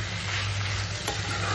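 Dry fish frying with kunduli in a wok, a close, steady sizzle with stirring scrapes and a brief clink near the end, alone without talk.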